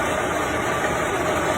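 A vehicle engine runs steadily at idle-like revs with a constant low hum and rumble while gears are shifted, close and continuous with no break in the drone.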